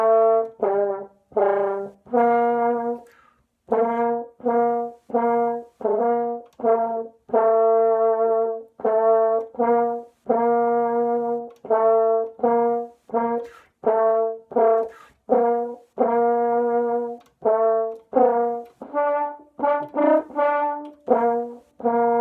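A half-size F horn plays a slow stepwise scale, one sustained note after another with short gaps between them, clear and close with no talking.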